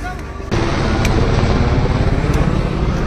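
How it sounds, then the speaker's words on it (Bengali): Helicopter flying overhead near Pahalgam on the Amarnath Yatra pilgrimage route, a steady low rotor drone that rises sharply after a brief quieter moment and holds loud and continuous throughout. "এদিক থেকে হেলিকপ্টার যাচ্ছে তোমার পেহেলগাম থেকে"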